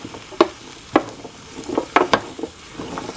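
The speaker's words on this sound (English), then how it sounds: "I'm going to give this a stir." Eggplant cubes and other ratatouille vegetables are stirred in a Nesco 4-quart roaster oven, a series of close scraping knocks of a spoon against the pot, about eight irregular strokes over a soft sizzling bed.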